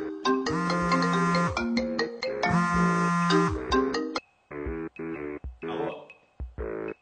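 Telephone ringtone plays loud and melodic for about four seconds, followed by choppy, clipped tones as the call is picked up.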